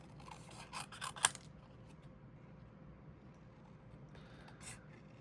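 Scissors fussy cutting a small stamped paper piece: a cluster of quick, close snips and paper rustles early on, then quiet handling and a faint final snip, with no talk.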